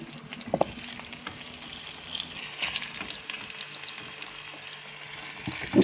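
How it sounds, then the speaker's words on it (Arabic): Meat browning in oil and butter for a traditional Marrakech-style lamb and eggplant dish, giving a steady close sizzle with occasional stirring clinks and no talking. "نخليوها تقلى مزيان حتى تشد فيها الحموريه"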